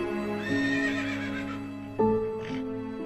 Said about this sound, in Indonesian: suara ringkikan kuda yang nyaring terdengar pada malam-malam tertentu